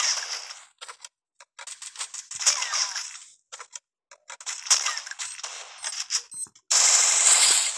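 Bursts of Free Fire video game gunfire, rapid automatic strings separated by short pauses, crisp and fairly loud, ending in a sustained stretch of continuous fire with no talking.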